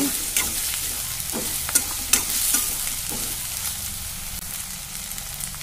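Chopped green chillies and onions sizzle in a pan with salt, with steady frying crackle and a few sharp stirring clinks near the start, no talking.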